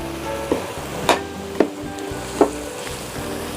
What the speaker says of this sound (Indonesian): Lalu saya masukkan daging sapinya yang sudah dipotong-potong ya.